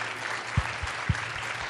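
Audience applause at a teen summit, a steady broadband patter of many hands clapping at moderate level, with two brief low thumps standing out partway through.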